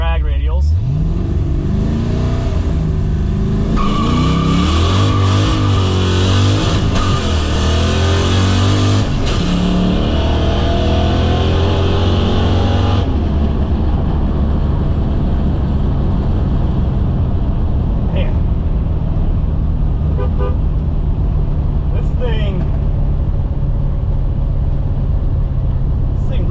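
A 1991 Fox-body Mustang on drag radials revs loudly and launches at about 3,000 RPM, its engine climbing through rising pitch before cutting off abruptly, followed by a quieter rumble and some talk.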